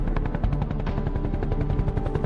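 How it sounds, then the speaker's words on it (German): Steady rapid thudding of helicopter rotor blades with a low engine drone as the helicopter circles over a forest at night, continuous and fairly loud. "Unser Hubschrauber zog gerade seine Kreise über dem nächtlichen Wald,"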